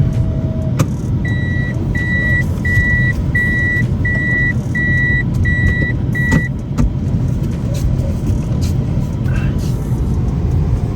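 Interior hum and road rumble of a rental car being driven to return at Avis, steady and loud, with a short run of evenly spaced electronic chimes partway through and a few clicks.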